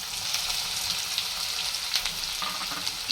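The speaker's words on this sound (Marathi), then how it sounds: "आणि हे चांगलं हलवून द्यायचंय आहे कांदा चांगला लाल होऊन द्यायचा आहे" Chopped onion frying in a pan for baingan bharta while being stirred, a steady close sizzle with crackling pops and scraping stir sounds running throughout, no talk.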